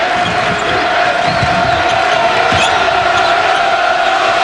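An arena crowd at a Memphis versus Tennessee college basketball game roars continuously, with dense, loud cheering and the squeak and bounce of play beneath, and a commentator's voice faintly in the mix.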